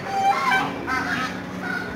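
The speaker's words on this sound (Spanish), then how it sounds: "Pavos" Several loud, honking peacock calls ring out in quick succession, nasal and brassy, fairly close at an international fair in Reggio Emilia, with no talking.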